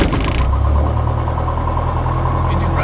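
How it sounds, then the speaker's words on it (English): An engine, started on a spoken clear-left, clear-right call during a Maribo event, runs steadily and loudly with a constant low droning hum throughout, close to the listener. "Engine running."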